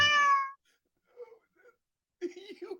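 A cartoonish cat meow sounds at the start as a bright, drawn-out sound effect. It is followed by quiet, sparse talk and then louder speech.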